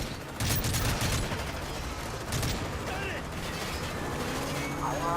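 Bursts of gunfire in the Call of Duty Modern Warfare 3 video game, rapid shots over mechanical clatter and game sounds, with players talking throughout.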